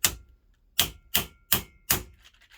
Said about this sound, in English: I'll give it a gentle tap with a soft face for the moment.